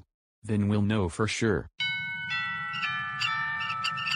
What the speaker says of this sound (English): Oh, that's my doorbell, I wonder who that is.